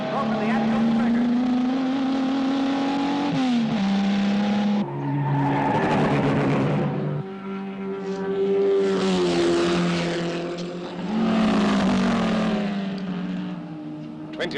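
A racing car speeds around a circuit, its engine holding a loud, sustained whine that dips and climbs in pitch through gear changes, with brief tyre squeals as it corners.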